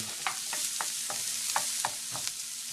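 Chopped broccoli and shallots fry in butter over medium-high heat, a steady close sizzle broken by regular scraping stirs in the pan; no one speaks.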